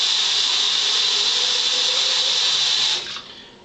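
Water pours out of a shaving soap bowl in a steady, loud splashing stream for about three seconds, then quickly tapers off to a faint trickle.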